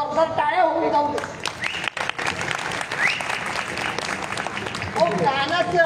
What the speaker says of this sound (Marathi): मंडळी एकदा जोरदार टाळ्या होऊन जाऊ दे